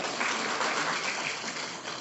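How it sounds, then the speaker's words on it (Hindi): An audience at a rally in Delhi marking Constitution Day claps together in steady, dense applause that stays loud throughout, with no talk over it. "जोरदार ताली तो बजाओ।"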